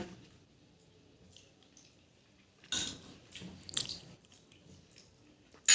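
Eating a home-cooked meal at close range, with quiet wet squishes and chewing. A few louder clinks of a utensil against a plate break up long near-silent gaps.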